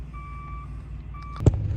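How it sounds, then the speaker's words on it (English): A truck's backup alarm sounds in two drawn-out electronic beeps over a low idling rumble while the truck parks, followed by a sharp thump near the end. "He's got a backup alarm, which is what woke me up."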